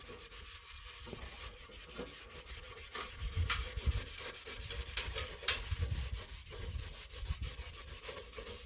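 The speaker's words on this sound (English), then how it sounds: "Give it a good scrubbing." Something is scrubbed clean with a stiff brush in a homestead kitchen, a close run of rough back-and-forth rubbing strokes with uneven rhythm and no talking.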